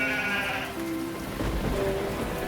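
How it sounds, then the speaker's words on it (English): Sheep in a video game bleat twice in quick succession over steady rain, the wavering cries clear against the soft patter, with no voices. "but I can hear sheep."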